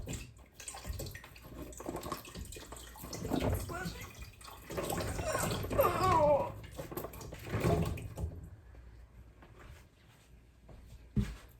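Water pours into a slow cooker pot in a kitchen, a rushing, splashing stream that swells and fades over several seconds, with a person talking quietly over it.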